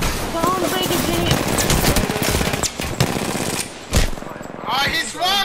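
Rapid automatic gunfire rattles in Apex Legends in dense bursts with short gaps, close and loud, while players talk over it.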